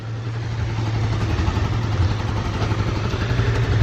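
A motorcycle being ridden around nearby, its engine giving a steady rough, clattering drone that slowly grows louder over a few seconds.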